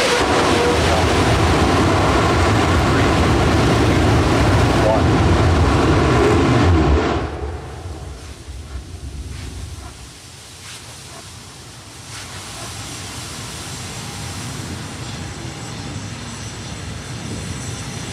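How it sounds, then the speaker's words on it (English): Terran One rocket engines igniting on the launch pad at LC-16, Cape Canaveral: a loud, broad continuous roar for about seven seconds that cuts off abruptly, leaving fainter, steady rumbling ambience. "we had ignition of our engines, but the T-clock did hold at T0"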